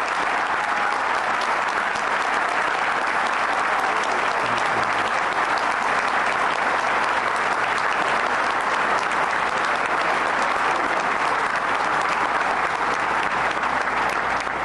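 A big crowd applauds for a woman named Geraldine during the New York governor's State of the State address, a loud, dense, unbroken wash of clapping that fills the whole stretch with no speech on top.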